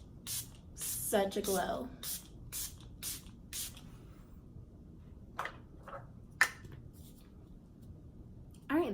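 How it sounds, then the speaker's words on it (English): Catrice Prime and Fine Dewy Glow setting spray gives several short, sharp pump-mist spritzes close up, separated by pauses, with a few quieter puffs later and brief soft talk in between. "next I'm going to use the Catrice Prime and Fine Setting Spray"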